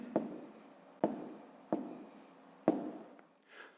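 Pen writing numbers by hand on paper: four short bursts of scratching strokes, each starting with a soft tap, close and quiet in a still room.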